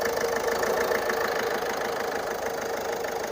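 A 2017 Ford EcoSport engine idles steadily right after a self start, a close, even mid-pitched hum with a slight knocking texture and no talk over it.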